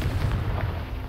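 A single Confringo blasting-spell explosion in the game Hogwarts Legacy, a deep, loud boom with a rumbling low body that fades over about a second.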